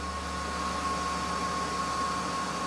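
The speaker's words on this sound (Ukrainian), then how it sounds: "Як бачите, фен споживає на першій швидкості 920-940 Вт кВт." A hair dryer runs steadily on its first speed setting, a constant broadband airflow hiss with a faint mechanical hum and a thin tonal whine, unbroken and close.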